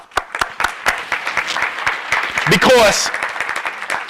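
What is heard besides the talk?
audience applause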